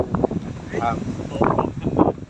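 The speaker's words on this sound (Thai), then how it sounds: "ลมแรงมากเลยครับ" Strong wind buffets the microphone at a high cave viewpoint, giving gusty, low rumbling bursts while someone talks over it.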